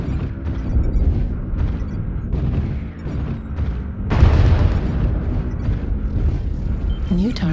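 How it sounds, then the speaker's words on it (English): A video game artillery strike lands as a rumbling series of heavy booms, the loudest blast arriving midway, with a voice speaking over the explosions. "Artillery strike activated."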